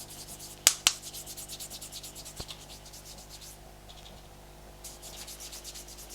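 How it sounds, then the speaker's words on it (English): Soft, steady rubbing of fingers on skin, quiet and close, with a couple of sharp taps early on and a brief pause near the end. "I'm hoping you can hear on my microphone how hard I'm rubbing that"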